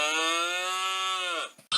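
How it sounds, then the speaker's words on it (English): A cow moos in one long, loud, sustained call lasting over a second that trails off abruptly, followed by a brief clipped noise. "Cow."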